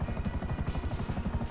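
A police helicopter in Grand Theft Auto V thumps with fast, even rotor chops, steady and fairly close throughout, with no talk over it.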